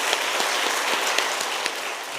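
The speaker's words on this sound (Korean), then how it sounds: "단기선교팀을 위해서 박수해 주시기 바랍니다" Church congregation applauding during a Wednesday worship service, a dense steady wash of many hands clapping together, fairly loud and continuous with no voices.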